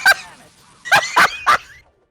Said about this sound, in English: Oh, birds, watch this. Watch the sound effects.